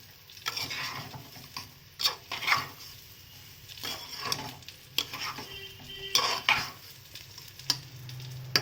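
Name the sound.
rice frying and being stirred in a pan for khichuri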